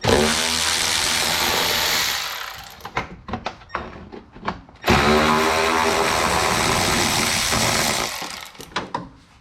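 Two loud bursts of a power tool whirring as bolts are spun out of a Nissan Xterra, each followed by clanks and rattles of loose parts.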